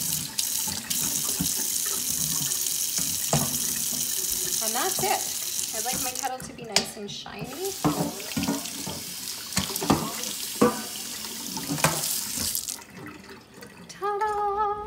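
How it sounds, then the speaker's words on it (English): Water runs steadily from a kitchen sink tap while a kettle is being cleaned with cleaning paste, a continuous hiss and splash lasting most of the clip before it stops near the end, with someone talking over it. "So I'm gonna walk over to the sink. I just need a little bit more water."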